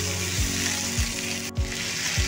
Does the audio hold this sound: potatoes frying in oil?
yes